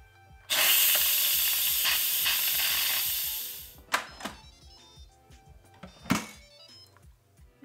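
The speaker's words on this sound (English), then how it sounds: "Here is the release valve for the steam." Instant Pot Duo pressure cooker releasing steam through its valve after cooking a rotisserie chicken, a loud steady hiss for about three seconds that cuts off, followed by a few clicks and thunks.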